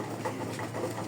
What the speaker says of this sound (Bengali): এটা কিন্তু মাদি কবুতর